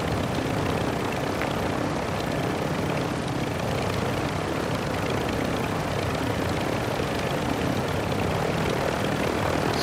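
A helicopter in the Call of Duty Warzone 2.0 DMZ video game gives off a loud, continuous rotor and engine roar that stays steady and close for the whole stretch.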